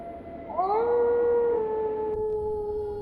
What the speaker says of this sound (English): I used to sit here and listen to the howling wolves.